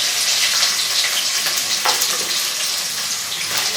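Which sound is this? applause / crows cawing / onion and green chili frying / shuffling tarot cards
onion and green chili frying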